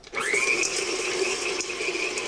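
Stand mixer creaming brown sugar and butter in a bowl, starting abruptly and then holding a steady whirring motor drone with a rising whine, close and loud, with no talking.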